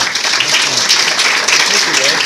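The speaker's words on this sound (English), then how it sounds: "let's give him a big hand and encourage him in his talk" Audience applause for a speaker being introduced at a historical society lecture, a steady wash of clapping that fills the whole moment without a break.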